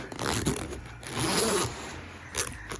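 A zipper is drawn shut on a laptop bag that holds a MacBook Pro, an external hard drive and an adapter. It gives a couple of short, close, rasping pulls, with a longer sustained zip in the middle.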